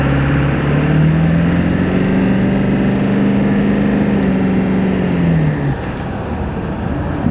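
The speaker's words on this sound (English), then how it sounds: "the way my truck just shifted was so nice" A Ford 7.3 Powerstroke diesel truck with a 65-horsepower performance tune drones loudly and steadily from the cab, its engine tone rising before a clean gear shift drops it lower near the end.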